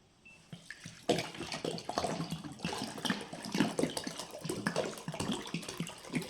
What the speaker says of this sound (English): I am taking a bottle filled with water and I will just simply turn it upside down